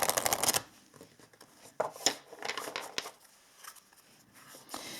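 Oracle cards shuffled by hand, a dense burst of close, crisp riffling at the start followed by scattered softer flicks and card taps, with no voices.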